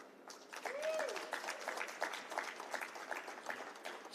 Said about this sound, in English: Come on, a big round of applause for them.